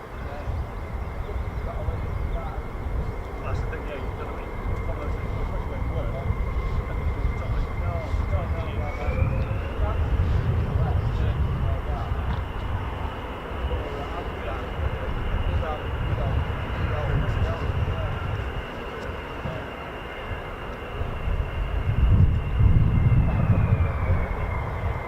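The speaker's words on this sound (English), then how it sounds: "Here we go, more F-15." F-15 fighter jets flying at RAF Lakenheath produce a sustained, distant roar with a steady engine whine that swells and fades over about twenty-five seconds.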